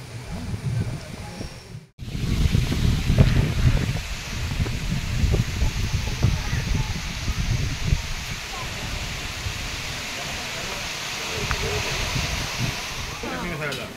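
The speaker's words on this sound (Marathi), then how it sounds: "ये थंडी हवा आहे" Cold monsoon wind at Matheran hill station buffets the microphone in a steady, loud rush with a brief dropout early on, continuing as a broad hiss to the end.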